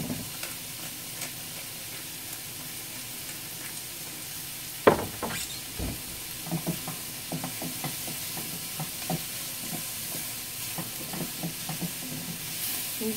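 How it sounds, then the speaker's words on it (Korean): Japchae vegetables with cabbage, salt and pepper stir-fried over high heat, a soft continuous sizzle broken by a sharp clatter and then a run of light scraping and tossing sounds close by. "센 불에 볶고 있어요."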